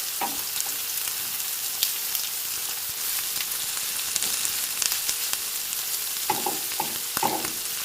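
Korean samgyeopsal pork belly frying in a pan at home, a steady close sizzle with scattered crackles and pops running throughout, no voices.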